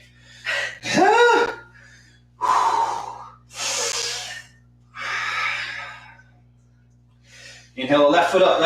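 Heavy breaths during a yoga class come in several loud, close bursts of inhales and exhales with snorting and gasping edges, separated by short pauses, with no spoken words.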